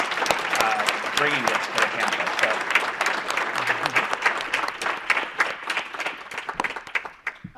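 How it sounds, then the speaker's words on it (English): Sustained, dense applause from an audience at a campus Q&A event, loud and steady throughout while a voice speaks over it. "I think they deserve a round of applause for"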